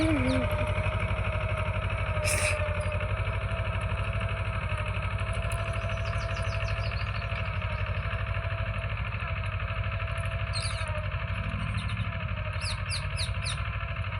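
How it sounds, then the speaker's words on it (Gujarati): A farm tractor engine runs in an open field with a steady, continuous drone that never changes pace, while birds chirp now and then in the background. "જો આવી રીતનું ટ્રેક્ટર ચાલી રહ્યું છે"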